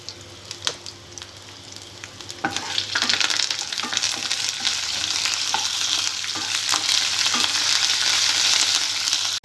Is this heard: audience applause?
no